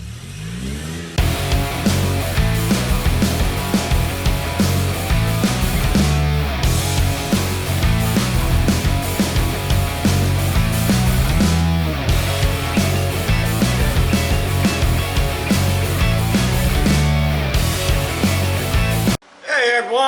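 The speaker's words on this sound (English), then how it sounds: "Please pardon the background noise. Road crews out here paving the road." Heavy road-paving machinery runs steadily in the background, a loud continuous engine drone with revving swells and clanking, filling nearly the whole stretch before cutting off abruptly near the end.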